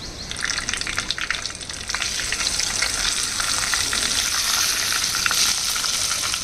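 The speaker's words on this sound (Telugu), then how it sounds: "ఇది ఆయిల్ వేడయింది ఇందులో చిటికెడు పసుపు వేయాలండి పసుపు వేసిన తర్వాత ఇది ఎగ్స్ వేయాలి" Eggs sizzle steadily in hot oil seasoned with a pinch of turmeric, a dense, continuous crackle with scattered sharp pops, close and fairly loud with no voices.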